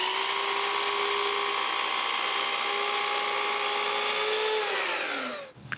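A power saw cutting thin wood veneer taped for an intarsia medicine cabinet door, giving a steady, close, high-pitched whine that holds for about five seconds, then spins down abruptly as the cut ends.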